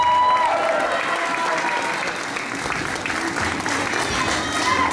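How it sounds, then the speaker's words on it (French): Steady, dense applause from a concert audience at a tribute show, a continuous wash of many hands clapping close and loud for the full stretch without a break. "on peut applaudir très fort"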